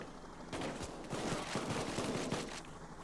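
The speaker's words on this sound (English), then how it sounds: "I killed him, too, by shooting him in the leg" Rapid bursts of gunfire in the heist shooter Payday 2, a dense, continuous volley of overlapping shots and impacts that runs loud for most of the stretch, easing off near the end.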